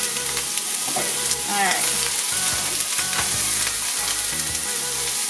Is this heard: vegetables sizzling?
yes